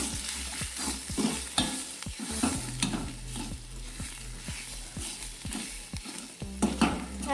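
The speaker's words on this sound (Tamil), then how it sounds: "ஆட் பண்ணி நல்லா வதக்கி விட்டுக்கோங்க." Ground gongura greens sautéing in oil for chutney, a steady close sizzle broken by repeated scraping and stirring strokes in the pan, with no talk.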